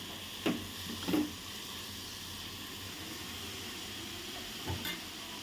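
Cabbage, carrots and onions fry in a pan with a steady close hiss and sizzle, broken by a few sharp clinks of stirring near the start and end.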